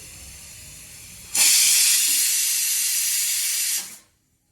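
A pressure cooker on a gas stove, cooking peas for ghugni, lets out one loud, steady steam hiss lasting about two and a half seconds before cutting off abruptly into near silence.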